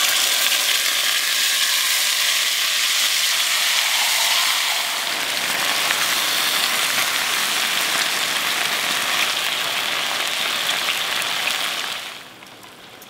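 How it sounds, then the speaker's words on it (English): Beef roulades brown in a hot pan, giving off a steady, loud sizzle that fills the whole stretch, grows a little fuller partway through, then drops away sharply near the end. "now I'm going to get my pan nice and hot and we're going to start to brown these"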